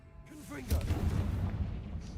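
A Confringo spell blast in the video game Hogwarts Legacy: a sudden booming burst erupts just under a second in and rumbles on, loud and sustained, until the clip ends.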